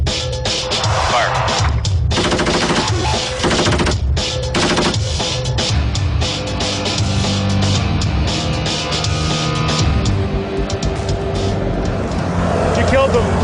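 Bursts of rapid gunfire from weapons on a combat training exercise, with loud repeated volleys and engine-like rumble underneath, while voices talk over radio.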